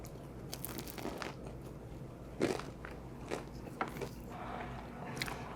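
Bites into a crunchy, slightly dry fried egg roll filled with pork, shrimp and peanut butter, a few sharp crackling crunches over faint background noise, close to the mic.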